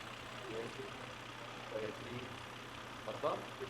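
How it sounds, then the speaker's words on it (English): A Volvo engine idles while running on milk, giving a low, steady rumble that stays faint and constant under brief bits of speech. "Volvo engine running on a milk."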